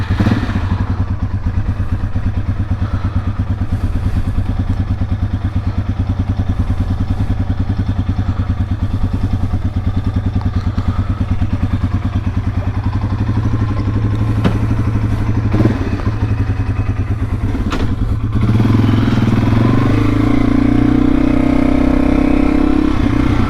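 A Yamaha TW200 dual sport motorcycle rides along with a steady, loud, low single-cylinder engine drone, sporadic clatter and thumps, and the engine note shifting and rising near the end.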